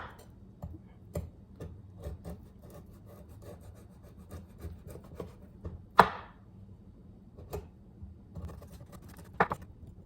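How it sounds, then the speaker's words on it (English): Beef spice grated over an ostrich dish: quiet, repeated scraping and rasping strokes in an irregular rhythm, close by, with a couple of sharper knocks of the grater. "I'm gonna grate some more over it."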